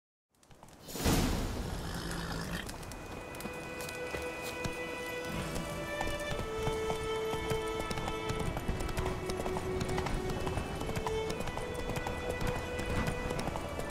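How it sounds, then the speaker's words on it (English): A horse gallops in The Witcher video game. Rapid, continuous hoofbeats begin suddenly after a moment of silence and keep a steady, driving rhythm over constant background game sound. "Whoa there, Roach"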